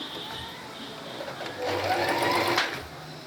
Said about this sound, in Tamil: இந்த அளவுக்கு நேராக ஃபுல்லாக தைச்சிட்டு வரணும்.